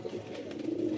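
A pigeon, a female just returned from flight, coos softly and close in a brief low murmur with no talk over it.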